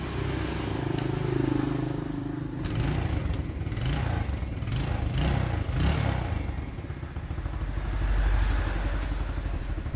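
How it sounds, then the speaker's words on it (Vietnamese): A Yamaha Sirius motorcycle engine runs at a steady, even idle after a carburetor cleaning, its continuous close-up chugging drone shifting slightly in tone early on, with no talking over it. "mình nổ khởi động máy lên thì ngay bây giờ các bạn nghe tiếng máy rất đều, rất êm"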